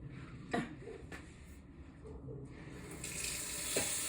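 Excess meat juice and water poured off from a pan while making homemade meatloaf: a soft, steady running-liquid trickle with a few faint clinks, swelling slightly toward the end.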